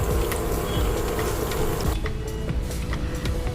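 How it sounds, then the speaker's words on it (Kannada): Mustard seeds and cumin sputter and crackle steadily in hot oil in a pan, a dense continuous sizzle with scattered sharper pops, close and fairly loud, with no voices. "ಸಾಸಿವೆ ಮತ್ತು ಜೀರಿಗೆ ಹಾಕೊಳ್ಳೋಣ"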